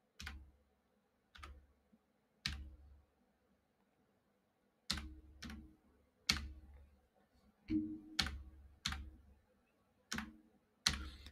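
A phone number tapped out on a computer keyboard in short separate keystroke clicks, single presses spaced with pauses and then a quicker run, close and fairly quiet.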